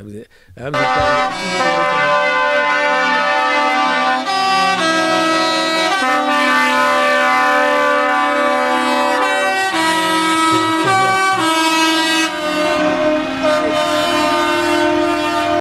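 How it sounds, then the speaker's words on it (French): Vehicle horns blare in a long loud sustained chorus, several tones overlapping and shifting, with brief gaps and renewed blasts throughout. "Les klaxons, oui, allez, on finit en fanfare."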